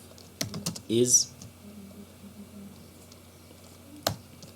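Close, light keystrokes on a computer keyboard while writing PHP code, arriving as a short burst of taps and then a single later click, with a voice speaking softly around them.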